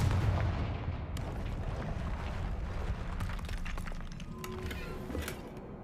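The Confringo fire spell detonates in Hogwarts Legacy combat, giving a deep rumbling explosion with heavy low-end boom. It decays into crackling debris and fainter secondary bursts over several seconds.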